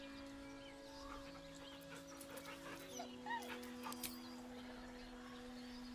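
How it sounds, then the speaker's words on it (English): A dog in the Baldur's Gate 3 video game whimpers nervously, with a few faint, short whines over a low, steady game ambience. "The dog whimpers nervously"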